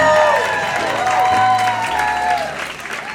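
An audience applauds loudly to welcome a contestant onto a live dating show stage, dense steady clapping with some cheering that fades slightly toward the end.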